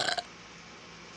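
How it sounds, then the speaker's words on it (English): A single short, rough burp bursts out loud and close, then cuts to quiet room tone. "even though you burp like a dude"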